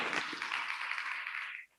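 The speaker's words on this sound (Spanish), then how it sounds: "recibamos a Pablo con un fuerte aplauso" Audience applause at a fintech entrepreneurship event in Guadalajara, a steady wash of clapping that holds for over a second and a half, then cuts off abruptly.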